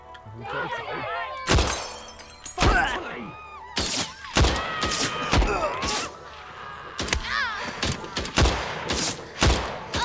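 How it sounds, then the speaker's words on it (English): Gunfire in the first-person shooter Better Than Dead: several sharp, loud shots and impacts scattered through the clip, some in quick succession, mixed with breaking, shattering crashes and other game noise, with a voice talking between them. "I just shot like down into a corner and hit an innocent bystander I thought I was clearly shooting past"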